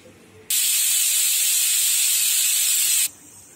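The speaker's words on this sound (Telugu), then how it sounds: "కుక్కర్ 5 whistles వచ్చిందండి" A pressure cooker cooking spinach dal lets out one loud, steady steam whistle, a continuous hiss that starts abruptly, holds for about two and a half seconds and then cuts off.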